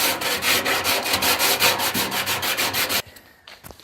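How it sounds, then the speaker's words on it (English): Sandpaper worked by hand into the corners of a rusty old metal toolbox, rapid rhythmic scratchy strokes close up for about three seconds, then stopping to quiet handling noise. "I'm just gonna do it by hand with a piece of sandpaper."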